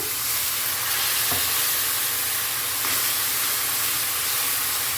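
Masala for a carrot and cauliflower curry sizzles steadily in a pan after a splash of water, a loud, even crackling hiss with a couple of brief pops, close and without voices.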